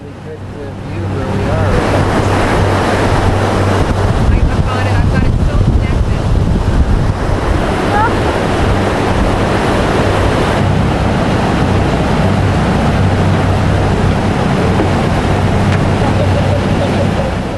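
Steady rushing wind and water wash over the Island Star cruise boat's low engine hum on the St. Lawrence between Kingston and Gananoque, loud and continuous throughout, with no clear voices.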